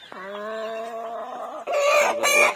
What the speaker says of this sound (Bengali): আর মুরগা দুইটা এইখানে আটকায় রাখা হয়েছে, কি জোরে চিৎকার করতেছে